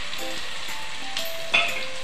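Eggs sizzle and fry steadily in a hot pan for egg biryani, a continuous close crackle with a brief louder spit of oil near the end and no talking.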